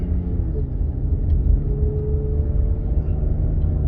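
A salvaged 2013 Cadillac ATS with hidden damage driving from inside the cabin, a steady low engine rumble and road drone with slight rises as it moves up through the gears, loud and close.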